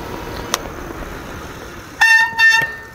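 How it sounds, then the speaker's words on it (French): Front and rear brakes of an Engwe P26 electric bike squealing under hard braking, two loud high-pitched squeals in quick succession near the end, preceded by a brief sharp tone over steady outdoor background noise. "j'ai écrasé le frein avant à fond, ça a fait beaucoup de bruit"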